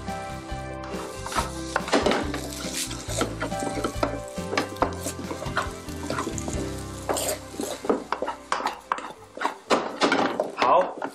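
A spatula scrapes and clatters against a pan while Shanghai vegetable rice with garlic and mushrooms is stir-fried, with quick irregular strokes and a faint sizzle under a person talking.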